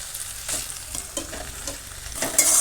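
Potatoes frying with spices in a pan for chicken biryani, a steady close sizzle broken by repeated scraping stirs of the spoon, no voices present.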